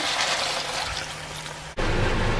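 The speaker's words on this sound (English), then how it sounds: "We can add about 300 ml of water." About 300 ml of water poured into a cooking pot of pork belly pochero, a steady close gushing pour that breaks off abruptly near the end into a rougher splashing.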